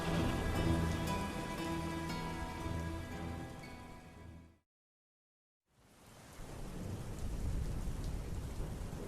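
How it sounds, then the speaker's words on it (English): Heavy rain with thunder pours steadily as a dense hiss with low rumbling, cuts to a second of silence midway, then resumes at the same level. "The rain was relentless, pounding on my windshield"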